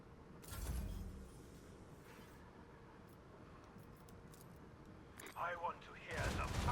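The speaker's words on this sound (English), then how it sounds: "The macro cannons roar." Macro cannons of a warship fire in the space strategy game Rogue Trader. Deep, booming blasts come near the start and again toward the end, with a low rumble in between.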